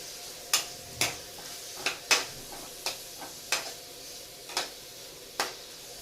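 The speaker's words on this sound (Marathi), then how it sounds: "आता हे चांगलं एकत्र मिक्स करून परतून घेते" Chopped onion stirred in a frying pan for a spinach bhaji with garlic-chilli paste, giving a steady run of about ten sharp spatula scrapes against a soft background sizzle, with no talking.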